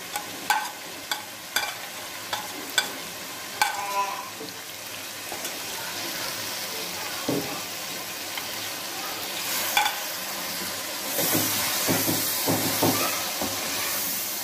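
Whole garam masala spices fry and get stirred in a pan, with a series of sharp spoon clicks and taps early on, then a continuous hissing sizzle that swells louder near the end.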